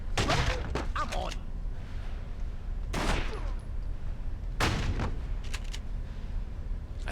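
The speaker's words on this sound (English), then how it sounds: "I like the shotgun in this game." Shotgun blasts in The Sopranos: Road to Respect on PlayStation 2: several loud, sharp reports come at irregular intervals, separated by gaps, over a steady game background.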